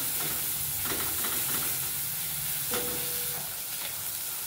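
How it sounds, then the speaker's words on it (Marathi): Freshly ground masala paste sautés in hot oil for a spicy Satara-style black bean curry, a steady close hiss and sizzle with a few soft stirring scrapes and no voices. "छानपैकी हा मसाला आपल्याला खरपूस असा परतून घ्यायचा आहे।"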